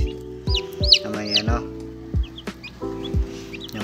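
Chicks in a box with sand peep and chirp in short bright bursts. Lower clucking calls also repeat several times, close and fairly loud, with no speech.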